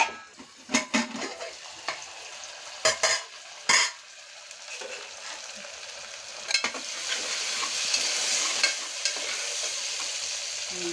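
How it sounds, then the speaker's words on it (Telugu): Onion, green chili and ginger-garlic paste fry for gongura mutton, with sharp knocks and scrapes of a spoon against the pan early on, then a swelling, steady sizzle. "ఇప్పుడు అల్లం వెల్లుల్లిపాయ పేస్ట్ వేసుకున్నాం"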